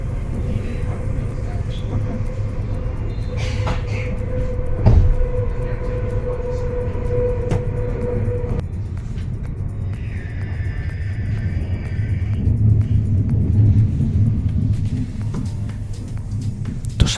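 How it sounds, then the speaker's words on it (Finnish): A VR Intercity passenger train passes in Finland, a long steady low rumble with rail screeching and rattles rising and falling over the whole stretch, while people talk over it. "Tuossa näkyy VR-juna, mikä menee tonne ympäri Suomea."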